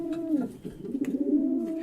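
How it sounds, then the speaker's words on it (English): A group of pigeons coos together in a low, warbling, rolling call that lasts about two seconds. The birds sound close and moderately loud, with no talk over them. "the pigeons let go a combined call"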